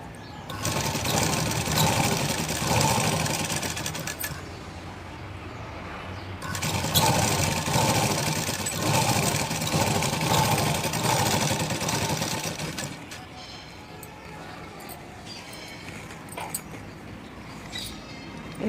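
A sewing machine stitches a Punjabi dress top in two long bursts of rapid whirring close by, separated by a brief pause, then falls quiet with small handling noises.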